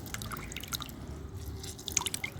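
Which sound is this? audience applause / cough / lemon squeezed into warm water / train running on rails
lemon squeezed into warm water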